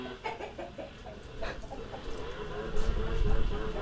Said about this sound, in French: Il y a un coq ici.